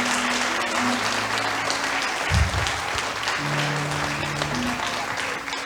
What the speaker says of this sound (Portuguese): Aplauda, igreja.